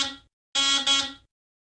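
A harsh electronic phone-ringing buzz sounds twice in the video game Robocar Poli Rescue Super Cars, a short burst followed by a longer double pulse, loud and close with no voices.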